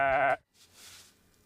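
A single sheep gives a short, loud, wavering bleat close by, cut off quickly and followed by faint outdoor ambience.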